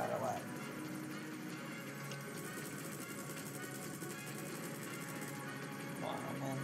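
A helicopter in the video game Metal Gear Solid V hovers nearby, its engine and rotor making a steady, even drone that continues throughout at moderate volume.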